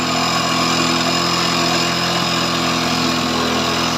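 Hero Passion Pro motorcycle engine running at raised revs during tuning, a loud, close, constant mechanical drone with no pauses or talking.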